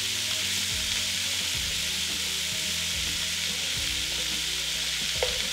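Onion, celery and carrots sautéing in a pot for a spicy beef stew, a loud dense unbroken sizzle under repeated scrapes and knocks of a wooden spoon stirring, with one sharper clack near the end.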